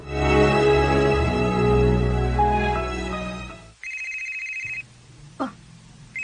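A cellphone rings with an incoming call, a loud melodic ringtone. It cuts off abruptly and gives way to a thin, steady electronic tone and a brief blip.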